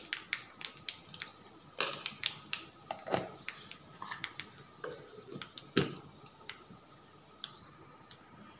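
Mustard seeds, with a little fenugreek, splutter in hot oil, a scatter of sharp, irregular pops and crackles, some louder than others, heard close and alone.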